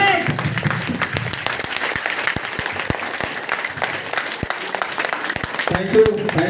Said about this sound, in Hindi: एक जोरदार ताली हो दीजिए